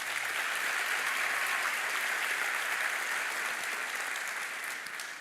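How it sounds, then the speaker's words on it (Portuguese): Church congregation applauding during a service, dense, even clapping from a large crowd sustained loudly throughout, fading slightly at the end. "Aplauda Jesus."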